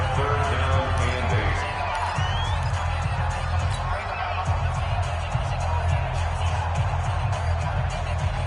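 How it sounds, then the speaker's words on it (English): Stadium crowd noise in a football video game, a steady loud roar of cheering fans building ahead of a big third down, with bass-heavy rumble throughout and continuous commentary-like voices mixed under it. "The crowd getting into it as we come up on a big 3rd down"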